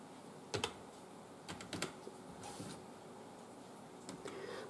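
Fingers type a message on a computer keyboard in several quick bursts of light clicks, separated by short pauses, close by and fairly quiet.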